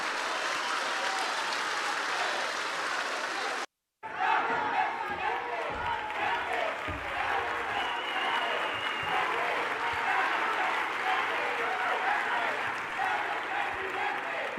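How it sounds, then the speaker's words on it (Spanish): A crowd at a keynote conference in Sinaloa bursts into sustained, loud applause after a brief silence, clapping steadily with some cheering mixed in. "Un fuerte aplauso para ella."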